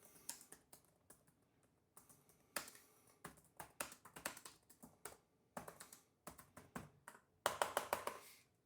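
Bursts of typing on a Lenovo gaming Chromebook keyboard, quick clustered clicks with short pauses between runs, close and fairly soft, no voices.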